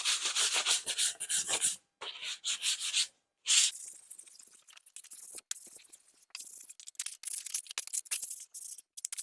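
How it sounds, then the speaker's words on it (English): Wooden park bench boards are sanded by hand in rapid, close rubbing strokes, bursts of gritty scraping separated by short pauses. "we are going to start to sand all this down"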